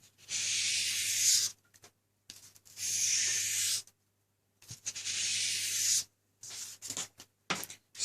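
Wet/dry sandpaper at 2000 grit rubs along a convex knife blade in long hissing strokes, three sustained passes followed by several shorter quick scrubs, close and fairly loud with no talking.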